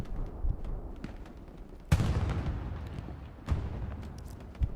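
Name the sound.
artillery strike in video game Hell Let Loose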